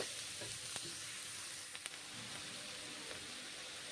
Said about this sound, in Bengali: বাঁধাকপি এখন ভেজে নিচ্ছি